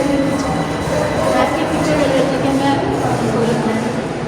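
A Tehran metro subway train arrives at and departs from an underground station, giving a continuous loud rumble and rolling hum for the full length, with voices audible in the busy station around it.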